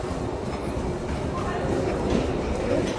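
A metro train rumbles steadily through an underground station, loud and continuous, swelling slightly toward the end with faint voices mixed in.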